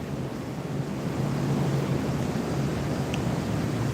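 Floodwater rushes through the Indian Bend Wash greenbelt in Scottsdale, Arizona, a steady, loud broadband roar with a low rumble that swells slightly after the first second and holds without a break.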